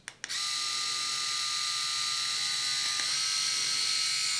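Kensen Bald 7D electric head shaver switched on after a couple of clicks, giving a steady high-pitched motor whine that holds constant and close, with a slight shift partway through and no talking.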